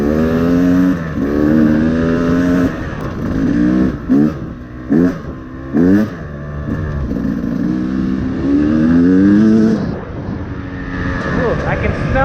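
A Beta 250RR two-stroke dirt bike, fitted with a Lectron carburetor, is ridden around to warm up. Its engine buzzes loudly nearby and rises and falls through repeated throttle blips and revs.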